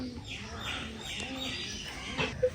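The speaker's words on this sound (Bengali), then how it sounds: "এটা দেখতে পাচ্ছেন বন্ধুরা যে খুবই সুন্দর এক জোড়া কবুতর কালো নিউ অ্যাডাল্ট কবুতর" A pair of black adult pigeons coo softly at close range in repeated low, throaty phrases over a quiet background.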